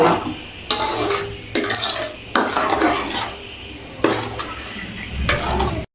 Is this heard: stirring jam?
yes